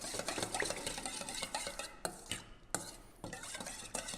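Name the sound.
mixing salsa verde with olive oil in a bowl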